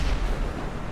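A video game firecracker explosion: a deep, rumbling blast fills the whole second, heavy and booming, with no voices over it.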